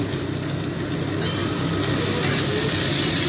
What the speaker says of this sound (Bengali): তাই এখন আলুটা ভাজছি